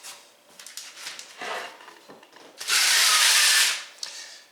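Vegetable prep on a metal baking sheet in a home kitchen: soft clatter and handling noises, then a loud, harsh scraping rasp lasting about a second, with no voices.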